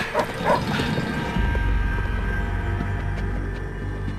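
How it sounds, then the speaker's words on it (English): A dog in a tense outdoor confrontation with a wolf yips and whimpers in short bursts early on, then a steady low rumble of commotion takes over. "I'm listening to a dog."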